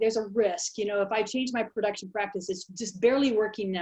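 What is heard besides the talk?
No distinct noise like a dog, phone or traffic.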